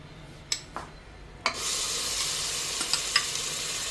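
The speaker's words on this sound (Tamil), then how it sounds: "எல்லாம் சேர்ந்து அரைச்சி வச்ச பேஸ்ட் அதில் போட்டு நல்லா வணக்கிக்கலாம்" Ground green masala paste for an oak leaf fern root soup sautéing in hot oil: a few utensil knocks, then a sudden loud sizzle that settles into a steady hiss with light scraping, close up.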